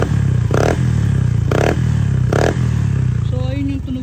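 Motorcycle fitted with an Apido exhaust pipe idles with a deep, loud throb close by, with three brief rev blips spaced about a second apart, and someone speaks over it at the end.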